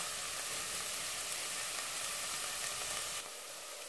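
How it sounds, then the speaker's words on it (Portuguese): Onion sautéing in a pan for beef stroganoff gives a steady, dense sizzle close by, with no talk, easing slightly near the end. "Agora que eu deixei refogar por 2 minutos, já tá mais transparente aqui a nossa cebola."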